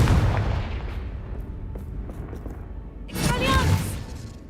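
A Confringo blasting spell explodes in Hogwarts Legacy on PS5. A loud booming blast opens the clip and rumbles away, then a second burst with a crackling whoosh hits near the end.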